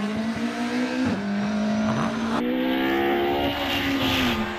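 A Westfield race car just over 2 litres launches off the line at the Prescott hill climb, its engine revving hard and climbing through gears with a brief shift break, loud and close before pulling away.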